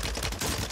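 Rapid gunfire bursts in Warzone 3 on Rebirth Island, a short loud clatter of shots with no talking.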